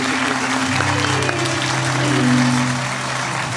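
A studio audience applauds steadily at a Turkish TV show honouring Paralympic medallists, a dense even wash of clapping with faint tonal hum beneath.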